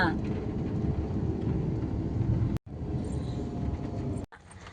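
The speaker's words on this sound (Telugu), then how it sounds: "వర్షం ఎలా పడుతుంది చూడడానికి" Steady rain hisses and patters throughout in a park, cut off by two abrupt breaks, with a low rumbling undertone.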